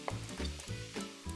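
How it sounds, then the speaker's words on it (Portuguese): Onion caramelizing in a hot pan, a soft steady sizzle with faint stirring scrapes, quiet and close. "Enquanto minha cebola está caramelizando"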